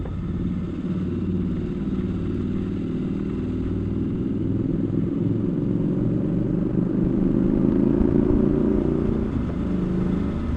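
A Triumph Scrambler 1200XE motorcycle engine drones steadily while riding, a loud continuous low rumble with mild rising pitch and wind noise, no talking.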